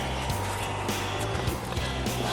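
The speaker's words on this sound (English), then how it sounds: "Neighbor's AC unit happens to be right here beside us, so we're just going to hear it." A neighbor's air conditioning unit running close by beside a boat, giving a steady low mechanical hum with a constant broadband whir, unbroken for the whole stretch.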